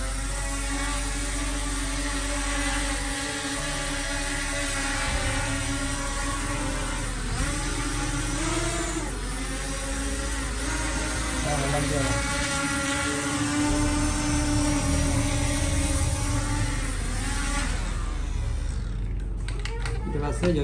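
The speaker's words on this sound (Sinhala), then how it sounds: "joystick දෙක ඇතුළට තියෙන හැටි මුලට අරගෙන ඩ්‍රෝන් එක ස්ටාර්ට් කරනවා" A K811 Max drone starts up and flies, its motors giving a steady, loud whirring buzz that holds for the whole stretch and wavers slightly in pitch before cutting off abruptly at the end.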